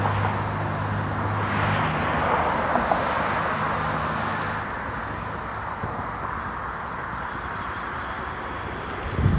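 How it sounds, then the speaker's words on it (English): An old train passes through a city centre, a broad steady rumble with low droning tones at first, then a rougher, grittier roar as it moves on, heard from the street during a walk. "There goes an old train."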